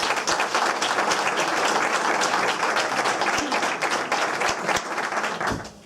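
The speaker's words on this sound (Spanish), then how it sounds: "Un aplauso para Ana, aunque no esté" An audience at a political candidacy presentation in Valladolid applauds, dense continuous clapping for several seconds that fades out at the end.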